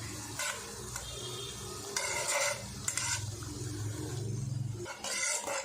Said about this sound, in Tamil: மீடியம் ஃப்ளேம்லேயே வச்சு நீங்கள் ஃப்ரை பண்ணி எடுத்துக்கலாம்